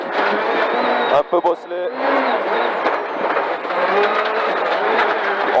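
Hyundai rally car driving hard through bends on a bumpy stage, with a steady loud engine drone broken by a brief burst of crackling and bangs, while a voice talks over it throughout.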